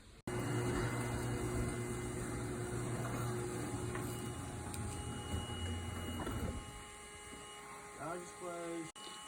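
A large vacuum sucks European paper wasps (Dominula) from an active nest in a window corner on a rooftop, making a loud, steady motor drone that cuts off about two-thirds through, followed by brief voices.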